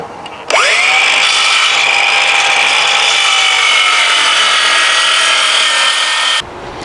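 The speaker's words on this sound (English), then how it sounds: "I've got the depth of cut set so that the blade will just score this top layer of veneer" A circular saw set to a shallow depth scores the top veneer of plywood: a loud, steady whining cut that starts abruptly, runs for about six seconds and then stops, close up and alone.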